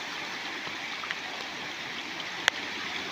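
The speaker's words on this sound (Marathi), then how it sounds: "हे बघा किती पाणी आहे बघा" Floodwater rushes through a channel beside a hamlet in Konkan after heavy rain, a steady broadband roar of flowing water with a faint click, no one speaking.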